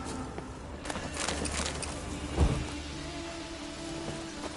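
Steady rain in The Witcher 3 video game hisses across the whole stretch, with a single low thud of distant thunder midway and no voices.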